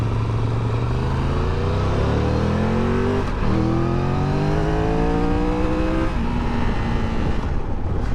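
A 2023 Triumph Tiger 1200 Rally Explorer motorcycle engine revs hard through rising gears, loud and close. It pulls upward in repeated climbing sweeps with brief drops at the shifts, under steady wind rush and with no talk.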